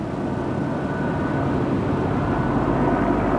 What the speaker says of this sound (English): Right now I hear all the helicopters flying around